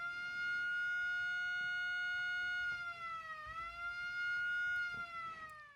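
An electronic siren circuit built to mimic a World War II fire truck siren gives a steady, loud, harmonic wail that dips briefly in pitch midway, then holds and fades slightly.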